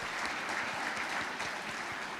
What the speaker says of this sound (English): please join me in give Honorable President Gordon's a round of applause